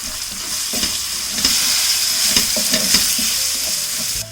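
Kashmiri chili powder, turmeric and salt sautéing in a pan, a steady bright sizzle broken by repeated scraping strokes of a spoon, close and uninterrupted by any voice.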